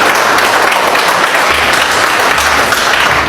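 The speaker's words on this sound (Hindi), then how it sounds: "एक बार जोरदार ताली बजा दो जरा" Loud, dense applause from an audience at a business seminar, a steady unbroken wash of clapping filling the whole moment with no voices over it.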